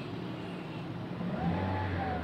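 Engine of a manual car rising in pitch as the driver presses the gas during a road driving lesson, a steady drone that swells louder partway through, no voices present.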